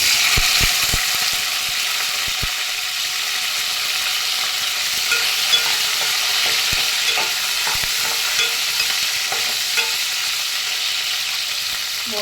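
Green chillies and coriander seeds fry in a hot pan with a steady, loud sizzle that lasts throughout, broken by scattered clicks and scrapes of stirring.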